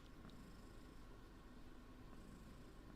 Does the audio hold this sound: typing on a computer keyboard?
no